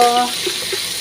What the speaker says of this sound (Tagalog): Ayan o, piniprito ko na po.